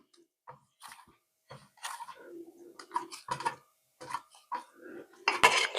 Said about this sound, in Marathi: कणिक मळून घेऊया.